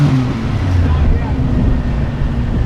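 A classic rally Mini engine runs loud and close at three-quarters of maximum revs for a stage rally noise test, a throaty low drone with slight fluctuations, with speech partly overlapping.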